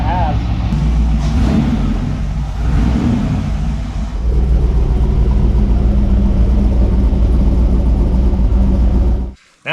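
Rebuilt engine running at a steady idle, a loud continuous low rumble close by that holds for most of the stretch before cutting off abruptly near the end.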